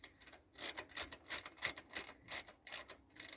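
Hand ratchet turning a bolt on a four-wheeler being brought back to running condition, a steady run of quick, close clicking strokes in even rhythm, with no voices.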